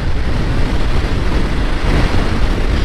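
Steady, loud wind buffeting the microphone while riding a KTM 1290 motorcycle, a continuous broadband rumble that swamps everything else for about three seconds.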